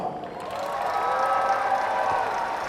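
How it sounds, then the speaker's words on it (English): Crowd of school district educators applauding for a woman at a motivational speech in Texas, a loud, sustained wash of clapping and light cheering that builds and holds. "Give her a round of applause."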